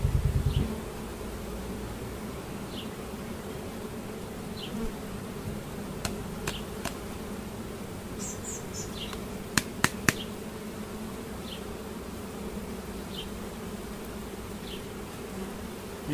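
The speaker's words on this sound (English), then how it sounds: "the bees are already starting to come alive" A steady low hum of buzzing honey bees, with occasional brief clicks and higher insect whines drifting past, no voices.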